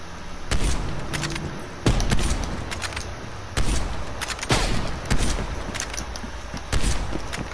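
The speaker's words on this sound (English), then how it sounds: "Did I just miss that shot?" Gunshots in a competitive video game shootout: repeated sharp cracks and short volleys over a steady noisy background, close and loud, with no talking.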